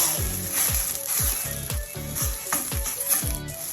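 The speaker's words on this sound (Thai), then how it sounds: "พอหมูสุกแล้วนะคะเราก็ใส่หอมใหญ่ลงไป" Sliced onion tipped into a pan of frying pork for kimchi soft tofu soup, sizzling steadily throughout with a few soft stirring scrapes, close and fairly loud.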